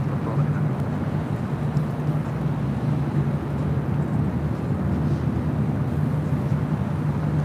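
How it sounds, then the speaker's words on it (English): EVA Air Boeing 777-300ER jet departing from LAX, a steady, heavy low-pitched engine roar with a constant hum, heard from a distance without talk. "Also see EVA Air, EVA Air, the 777-300ER heading back to Taipei."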